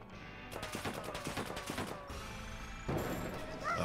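Rapid gunshot bursts from a Rusty & Curly slot game bonus round, a loud run of sharp cracks followed by crashing impacts and a brighter electronic jingle, with no talking.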